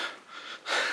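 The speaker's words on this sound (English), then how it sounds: "So I'm going to be panting and breathing heavily now." Heavy panting breaths from a person climbing a stairway, two long airy breaths followed by a louder, closer exhalation, with no talking.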